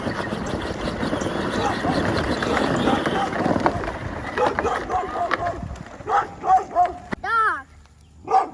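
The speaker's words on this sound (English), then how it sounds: "Dog." A dog barks outdoors on a nature walk, a few sharp barks near the end, following a stretch of rustling and movement noise, with people talking at times.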